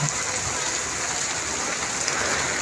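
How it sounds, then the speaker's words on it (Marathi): Steady rain falls on a road during a morning walk, a dense, even hiss of drops spread across the whole clip with no clear pauses, fairly close and continuous. "बघा पाऊस पडत आहे"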